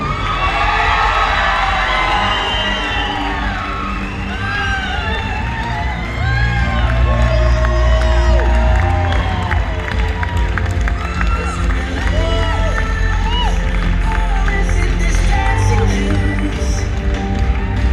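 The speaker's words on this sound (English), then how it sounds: "another big round of applause for the bride and groom" A wedding crowd cheers, whoops and shouts continuously for the newlyweds, loud and close, with excited voices blending into a steady roar.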